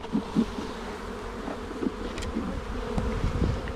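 Close, continuous buzzing of many honey bees being shaken from a nuc box onto a plywood ramp, with a few louder thumps and bumps, no voices.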